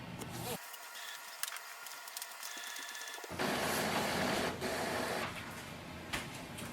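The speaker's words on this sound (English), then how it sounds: "It will take around 2 to 3 minutes for the print head to start cleaning." Epson WF-7820 inkjet printer running automatic printhead cleaning, a steady mechanical whir and rumble that cuts out briefly then returns louder and fuller, sounding close and continuous throughout.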